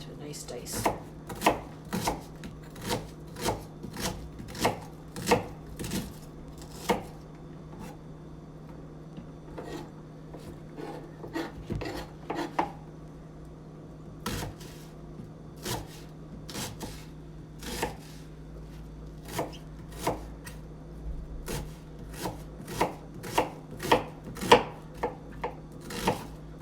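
A knife slicing and dicing onions on a cutting board, sharp irregular chops in quick bursts with short pauses, close and crisp over a low steady hum.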